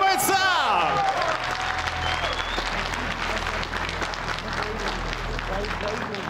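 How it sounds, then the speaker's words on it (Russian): Boxing arena crowd applauding the fighters after a WBC eliminator bout, loud sustained clapping and crowd noise throughout, with a brief whistle-like tone near the start. "Аплодисменты бойцам!"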